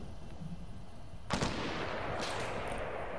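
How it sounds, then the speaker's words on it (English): A sudden burst of Fortnite gunfire cuts in partway through, then sustained shooting carries on at moderate level over a steady game background. "where are they shooting from?"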